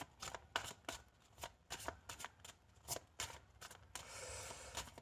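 Tarot cards shuffled by hand in a series of quick crisp riffles and slaps at close range, ending in a steadier rustling riffle, with no voice.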